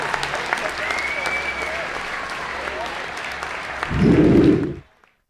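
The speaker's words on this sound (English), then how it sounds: "one more big round of applause for these participants and winners of tonight's homecoming" Applause from the crowd at a 2023 high school basketball homecoming in a gym, a steady round of clapping that swells louder near the end before cutting off.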